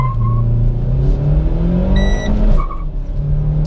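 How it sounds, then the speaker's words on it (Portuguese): A 2017 Renault Sandero RS Racing Spirit accelerates hard at high revs, the engine note climbing loudly and close, with a brief drop around a gear change and a short electronic beep before it pulls again. "Vamos fazer primeiro essa aceleração aqui com giro mais elevado"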